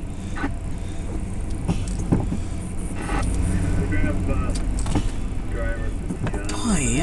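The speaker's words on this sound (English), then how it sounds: "talk about a freaking traffic jam" Cars idling and creeping in a traffic jam in Pittsfield, Massachusetts, heard from inside a car as a low, steady engine rumble, with a voice talking at moments and a few scattered mechanical clicks and tonal sounds.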